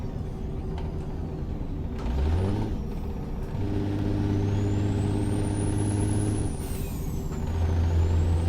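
A restored Peterbilt 359 in American Truck Simulator with engine tones rising through gear shifts, a steady diesel drone stepping up in pitch with a brief air hiss, near and moderately loud.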